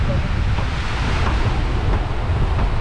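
Waves on the coast of Zanzibar island, a continuous roar of surf heavily mixed with gusty wind buffeting the microphone.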